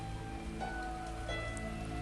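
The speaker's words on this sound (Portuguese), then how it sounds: "Nesse momento em que eu estou gravando, tá caindo uma chuva forte." Heavy rain pours down in a steady, dense hiss that fills the whole stretch without a break, with no voices over it.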